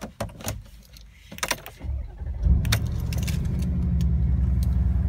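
A Mercedes-AMG G63 in matte finish starts after a few clicks and key jangles, then its engine settles into a deep, steady idle rumble close by.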